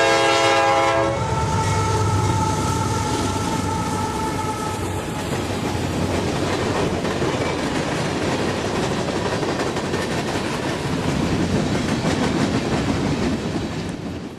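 Freight train N170 hauling empty coal hoppers back from Stanton Power Station near Taft toward Myra, Kentucky, on a Florida mainline: a horn blast opens, then a loud, steady rumble and clatter of cars rolling close by.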